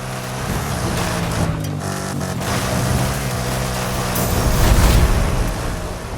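A Porsche Cayenne engine drones in a racing video game, a steady, moderately loud motor hum that swells and rises toward the end, with no talking over it.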